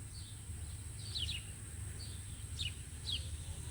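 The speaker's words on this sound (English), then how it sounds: "there's some birds up there. I don't see them, but I hear them." Small birds high in a tree outdoors give faint, thin chirps, about five brief calls spread over a few seconds against a steady low hum of background noise.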